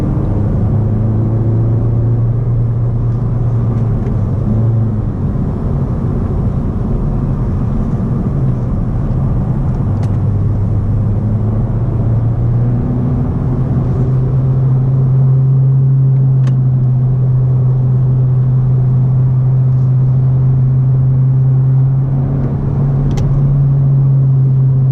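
Inside a 2017 Honda Civic Si four-door on the move, a loud, steady cabin drone of road and engine noise holds throughout, with a low hum that shifts in pitch as the car changes speed.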